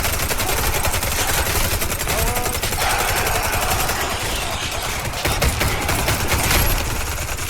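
Sustained machine-gun fire in Warface's zombie mode, a loud, unbroken rapid stream of shots close up, layered with other battle noise throughout.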